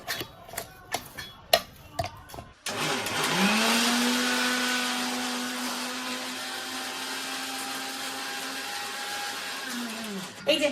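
A mixer grinder whirs steadily for about eight seconds, powdering fried ingredients in a small mixing jar, its pitch sagging slightly as it runs and then stopping, with brief knocks and handling clicks before it starts.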